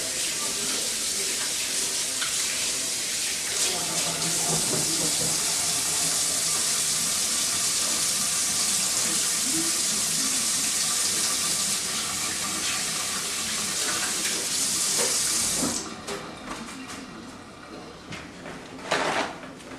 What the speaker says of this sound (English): Get my hands washed up.